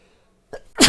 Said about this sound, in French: Attends, j'ai envie d'éternuer